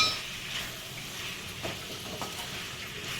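Finely chopped tomatoes fry in a pan for a potato and capsicum masala curry, giving a steady close sizzle with a few soft stirring scrapes partway through.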